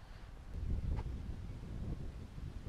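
Strong outdoor wind by the sea buffets the microphone in a continuous low roar, loud and close, swelling slightly then holding steady with no voices.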